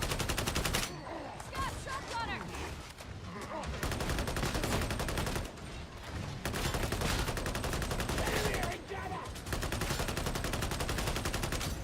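Rapid gunfire from a weapon in the video game Darktide, sustained bursts of loud shots that run almost continuously with a few brief breaks, dense and close, with faint chatter in the background.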